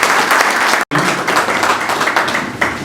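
A large crowd at a public gathering with a governor and senator present breaks into loud, sustained applause and cheering, dense and continuous, with one abrupt brief cut.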